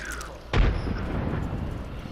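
A grenade detonates in Apex Legends with a single muffled boom and low rumble that trails off, moderately distant and fairly quiet against background game noise.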